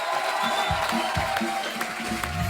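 A studio audience applauds for a singer as he comes onstage at a comedy talk show, dense steady clapping and crowd noise filling the space at moderate loudness.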